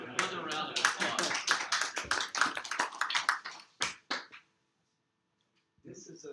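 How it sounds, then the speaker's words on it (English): An audience at a robotics lab talk gives another round of applause, a dense burst of clapping that thins out and stops, followed by silence and then a voice starting to talk. "Another round of applause."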